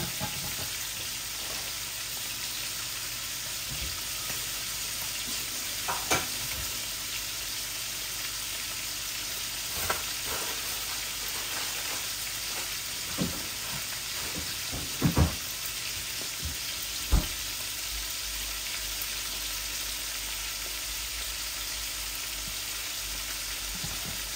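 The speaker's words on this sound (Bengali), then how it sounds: "আমি এখন এই টমেটোটাও দিয়ে দিব, একটা টমেটো সাথে দিয়ে দিচ্ছি।" A tomato goes into spices frying in a pan, giving a steady soft sizzle with occasional clicks and stirring knocks, quiet and close with no talk.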